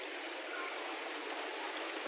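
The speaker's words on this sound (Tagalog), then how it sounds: "Ito po yung pinaka falls po doon." Steady, even rush of a waterfall pouring into a pool, heard close and continuous with no voices.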